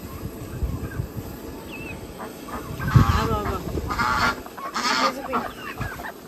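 Chickens and other farm fowl cluck and call in an open farmyard, with honking, goose-like cries rising in short bursts amid a steady background of birds and brief snatches of nearby voices.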